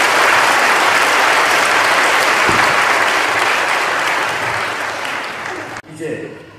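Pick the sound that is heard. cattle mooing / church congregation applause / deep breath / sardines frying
church congregation applause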